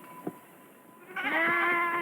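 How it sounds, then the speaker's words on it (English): A sheep bleats in a wavering, nasal call that starts partway through and holds to the end, preceded by a faint brief sound and quiet stretch. "If the sheep were lost, Annie thought, then Mother and Father would have to hunt for them all day."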